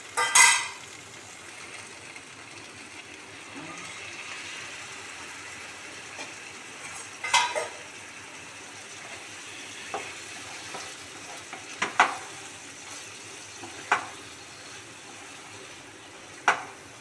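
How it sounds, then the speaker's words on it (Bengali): Potatoes sauté in a hot pan with a soft, continuous sizzle, and every few seconds a spoon scrapes and stirs in sharp clatters. The cooking sounds come up close and nobody talks. "আলুটা দিয়ে 2 মিনিটের মতো কষিয়ে নিব"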